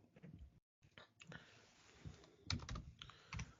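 Typing on a computer keyboard while entering a password command in a Linux terminal, a quick irregular run of close clicking keystrokes with a short pause near the start.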